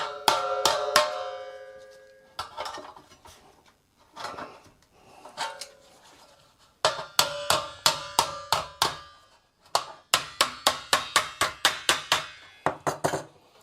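A hammer or tapping stick strikes a metal wheel flange in sharp ringing knocks, first in scattered single taps and then in rapid rhythmic runs, each hit bright and close with a short metallic decay.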